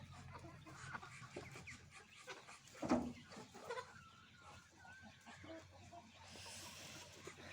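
Chickens cluck softly and intermittently nearby while grazing on freshly cut greens, with scattered peeps and rustling in a quiet outdoor setting.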